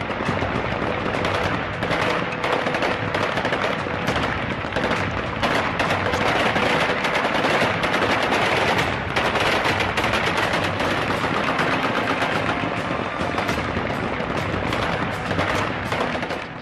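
Taliban fighters fire celebratory bursts of gunfire at Kabul airport, a dense, continuous crackle of overlapping rifle and machine-gun shots ringing out loud and sustained throughout.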